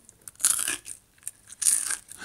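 Crunchy French fries being bitten up close, two crisp crunching bursts separated by a short pause, quiet and with no voices.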